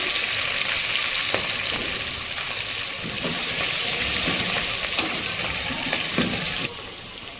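Mustard seeds, cumin, green chili and onions frying in hot oil for a tomato and potato curry, a loud continuous sizzle with occasional stirring clinks, close up and without talk.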